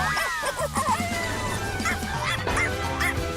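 A cartoon puppy from Blaze and the Monster Machines yips and barks in short high calls over a busy music and effects bed.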